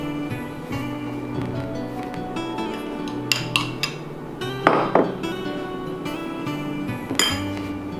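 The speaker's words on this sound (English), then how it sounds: "we just mix that through the flour" Clinking of a utensil against a bowl while lard and biscuit ingredients are worked through flour, a double batch; light scattered clinks and scrapes at close range over a low steady hum.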